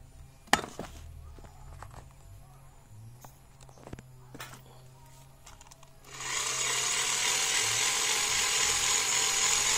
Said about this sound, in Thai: และนี่ก็จะเป็นการเป่าแบบเบาๆก่อนนะครับเพื่อให้ดูประสิทธิภาพของมันครับ